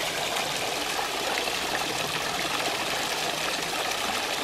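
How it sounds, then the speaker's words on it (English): A good-sized mountain creek rushes steadily nearby, a continuous broadband wash of flowing water with no pauses and no voices. "I'm here on top of my mountain, which has a nice sized creek running through it."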